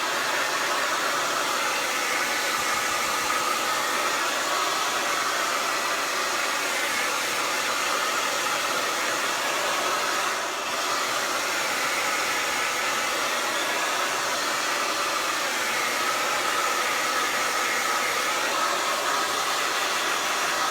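A hair dryer blows continuously over a chalkboard coated with Mod Podge, a loud, steady rushing whir heard up close for the whole stretch, with only a momentary dip partway through.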